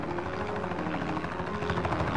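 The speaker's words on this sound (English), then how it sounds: "It's coming from above us. It's a helicopter!" A helicopter passes overhead in an animated rescue story, its rotor chop loud and steady with a rhythmic pulse, the engine drone holding throughout with no talk over it.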